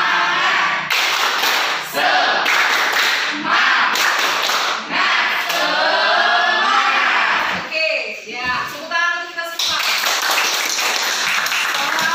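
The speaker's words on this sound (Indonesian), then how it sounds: "sekarang kita tepuk semangat. 1, 2, 3 ya. Tepuk semangat." A school class performs a rhythmic spirit clap, tepuk semangat, in a classroom: bursts of patterned group clapping and taps alternate with children's chanting voices across the stretch, loud and close.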